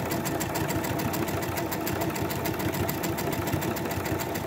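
Brother Quattro 2 6700D sewing machine running a decorative stitch on fabric, a steady, moderately quiet mechanical whir with a fast, even stitching rhythm throughout.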